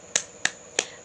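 Three crisp, separate taps in a children's clapping game, close and bright with short gaps between them, against quiet background hiss and no talking.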